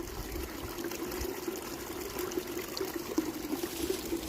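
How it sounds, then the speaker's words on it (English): Water draining and trickling down somewhere inside a Smoky Mountains tunnel: a steady, moderately faint flowing and dribbling sound with a hollow, echoing tone and no voices. "Sounds like it's draining down somewhere."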